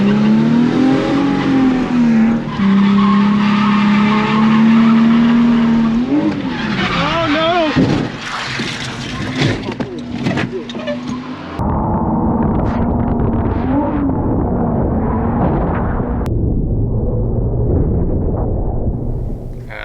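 A 2008 Nissan 350Z drifts and crashes. Its loud engine revs high while the tyres squeal and skid, and chaotic impact noises follow before the sound turns rougher and more broken.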